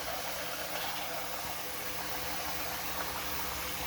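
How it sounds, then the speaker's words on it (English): Water pours steadily into a cooking pot for dal, a soft, even hiss that runs for a few seconds at low volume. "put in some water in the pot"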